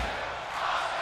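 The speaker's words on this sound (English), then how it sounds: "You hear this crowd" Arena crowd cheering in the WWE 2K22 wrestling game during a main event, a steady, dense roar of many voices that swells slightly toward the end, with no talk over it.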